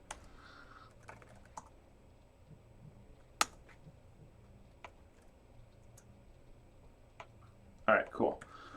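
Keys clack on a computer keyboard during a live coding session, sparse and fairly quiet taps scattered across the stretch, with a brief louder burst of clicks near the end.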